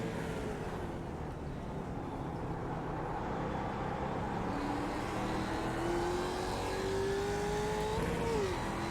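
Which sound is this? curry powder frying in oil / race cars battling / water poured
race cars battling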